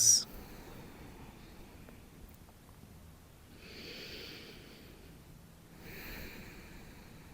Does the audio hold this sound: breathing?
yes